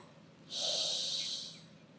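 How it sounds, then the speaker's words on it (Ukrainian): A single deep inhalation during a yoga flow, a soft, airy rush of breath lasting about a second, close and fairly clear against a quiet background. "глибокий вдих у животі"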